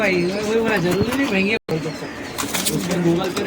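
Allahabadi pigeons released outdoors, their soft cooing and brief wing flaps carrying steadily for several seconds with a short gap midway, while someone talks over them.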